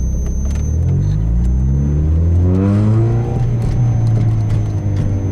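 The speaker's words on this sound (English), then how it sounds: "And now I'm going fast enough that I can completely release the clutch. And there you go, and I can accelerate." A manual-transmission car pulls away as the clutch is fully released, its engine note climbing steadily in a loud, close rumble of rising revs with no talking.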